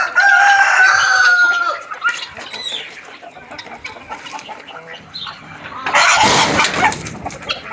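Hens cluck and a rooster crows loudly at the start among farmyard poultry, followed by scattered clucking and a second burst of noisy squawking near the end, close by and without talk.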